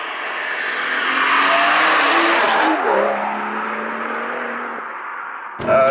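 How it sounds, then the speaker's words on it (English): A BMW M140i in sport mode accelerates loudly and close, engine note rising steadily before sharp rev blips on the downshift, ending with a brief burst near the end. "when you're in sport mode and you're shifting down, you do get the auto blipping as well"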